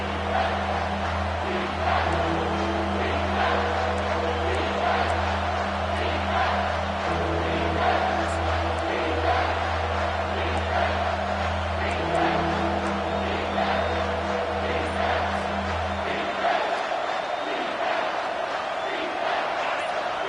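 A football stadium crowd at a UCLA game roars as one continuous wash of cheering under steady low rumble. The broad noise holds loud and dense, with a commentator's voice over it, then the low rumble drops away near the end.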